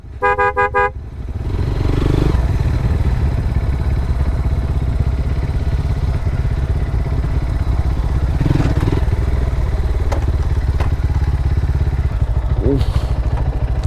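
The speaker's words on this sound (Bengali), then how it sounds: "আরে বাইকটা সামনে নিয়ে রাখো ওই" Motorcycle engine idling steadily close by on a hill trail in the Sukhia Valley area of Lama, Alikadam, a continuous low rumble with a brief horn-like toot near the start and light clatter, with voices faintly in the background.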